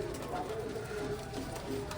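Soft, low cooing from a pair of blue bar frillback pigeons nearby, a brief murmuring call over faint background noise.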